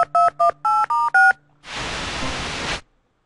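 A futuristic video phone in the Tex Murphy: Pandora Directive video game dials five short, loud electronic keypad tones in quick succession, followed by about a second of steady hissing static as the call connects.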